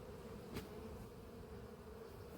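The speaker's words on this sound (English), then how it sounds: "these are reasonably steady bees" Honey bees from a fairly calm colony hum steadily at an apiary, a continuous close drone with one brief louder buzz as a bee passes near.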